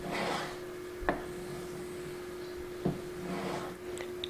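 A Benchmade 940 Osborne knife is drawn across water stones in soft, quiet rasping strokes, with two sharper scraping taps standing out over a faint steady hum.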